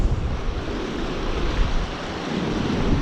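Strong wind gusting on a rocky shore beside turbulent sea, a steady roaring rush with waves surging behind it, loud and continuous with bursts of microphone buffeting and no voices.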